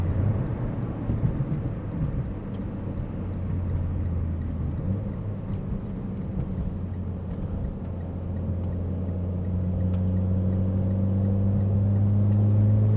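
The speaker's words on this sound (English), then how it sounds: "Going through the gears, as I said, making sure that we warm the car up properly." A Mitsubishi Evo X MR engine warming up and being run through the gears, a steady low drone with harmonics that rise gradually toward the end, fairly loud and continuous with no talk.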